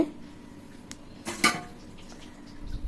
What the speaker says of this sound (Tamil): ஒரு மூடி போட்டு மூடி வச்சிடலாம்